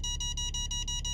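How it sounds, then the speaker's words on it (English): Mercedes Parktronic parking sensor beeping in a rapid, steady series of short electronic tones over a low hum, close and clear with no talk. "Immediately when the first LED comes on, it starts beeping."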